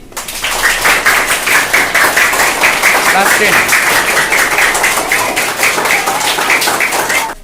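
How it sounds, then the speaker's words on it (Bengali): Classroom applause breaks out after a correct answer in a boys-versus-girls quiz competition, a dense, steady clatter of many hands sustained for several seconds with children's voices talking over it. "রাইট আনসার, হাততালি।"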